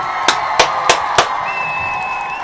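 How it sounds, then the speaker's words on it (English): Four sharp, evenly spaced claps ring out over a soft murmuring crowd at a daily toast ritual honoring ancestors, followed by a sustained whistle-like tone. "Let's get our ancestors a round of applause."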